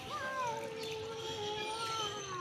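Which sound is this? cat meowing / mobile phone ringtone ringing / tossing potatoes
cat meowing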